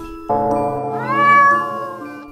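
A kitten lets out one long, drawn-out meow that swells in the middle and then trails off. It is close and clear, with no voices.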